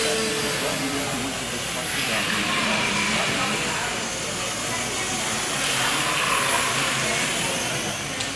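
A radio-controlled model airplane flies aerobatics such as knife-edge passes at an indoor model festival, its engine a steady loud whine and roar that swells slightly as it passes, under a continuous wash of room noise.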